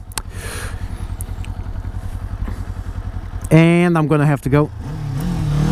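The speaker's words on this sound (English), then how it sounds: "This is a seriously fun bike." Kawasaki Z400 motorcycle ridden with its engine droning low at first, then revving sharply through a couple of rising accelerations, close and loud, with a rider speaking briefly over it.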